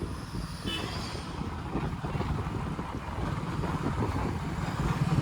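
A motorcycle rides through Samrala market in Punjab, giving a continuous low engine rumble mixed with wind buffeting and no speech.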